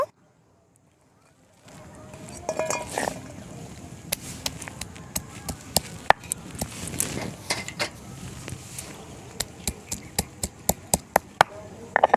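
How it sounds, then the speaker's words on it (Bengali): Ginger and garlic being ground into a paste, likely on a stone slab, with repeated sharp crushing knocks and scraping grinds that grow more regular after a quiet start, close and fairly loud, with no one speaking. "আদা রসুনটা বেটে নেব"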